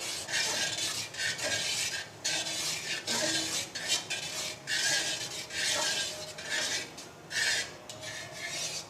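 A spoon scrapes and stirs sugar caramelizing in a pan for makhana halwa, a steady rasping rhythm of strokes repeating about every second, close and fairly loud with no voices.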